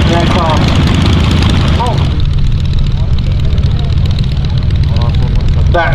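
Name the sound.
vintage aircraft formation taxiing out at air show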